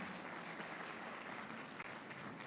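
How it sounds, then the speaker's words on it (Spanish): A congregation at an evangelistic campaign applauds the group Canto de Esperanza, a continuous, even roar of many hands clapping that holds steady throughout, a little distant. "Brindemos otro fuerte aplauso para el grupo Canto de Esperanza."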